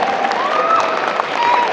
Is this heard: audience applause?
yes